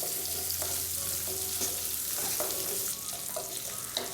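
Small onions sautéing in a pan over a medium flame, giving an even, continuous sizzle with light clicks and scrapes of stirring, close by and without speech.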